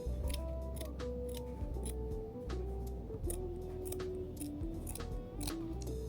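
Repeated crisp snips of scissors cutting through t-shirt fabric for a sewing blanket, close and quiet, irregular bursts of closing blades trimming uneven edges.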